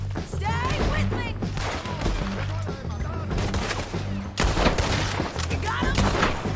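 Dense, rapid gunfire fills a Red Dead Redemption 2 shootout, with overlapping loud cracks and booms in constant volleys and shouting voices mixed in.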